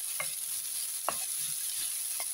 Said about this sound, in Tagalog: Lagay ko itong mortadella, sabay na ng pepperoni. Halo-haloin natin siya.